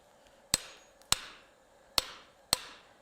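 Four sharp, ringing hammer blows on a metal bar set in butchering dies at a blacksmith's forge, evenly spaced and close, each strike decaying quickly with no talking.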